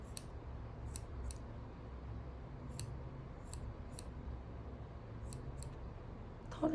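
Scissors trim protruding fuzz from a chenille stem keychain figure, giving a series of sharp snips, some in quick pairs, scattered across several seconds in a quiet room, ending with a brief handling rustle.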